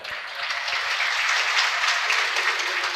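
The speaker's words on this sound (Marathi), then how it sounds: "टाळ्या वाज, असं तुम्ही कंजूस का बरं टाळ्या वाजवायला" Audience applause at a Shiv Mahapuran religious discourse gathering, a steady wash of many hands clapping together, sustained and fairly loud throughout with no talk over it.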